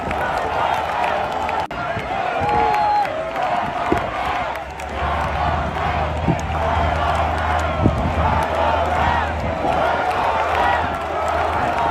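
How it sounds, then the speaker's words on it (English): A large crowd at a Trump rally roars continuously, loud and sustained with scattered shouts rising out of the din. "Here's what the crowd at Trump's rally really looked like"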